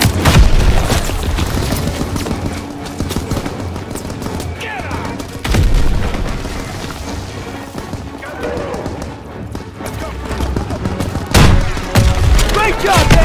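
Call of Duty WWII combat: a rocket launcher fired at a Panzer tank amid gunfire, with heavy booms and crashes standing out over bursts of rifle and machine-gun fire, and shouted voices mixed into the chaos.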